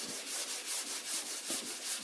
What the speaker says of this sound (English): so my door stays inside of my sanding block, so I'm not sanding all the primer off of that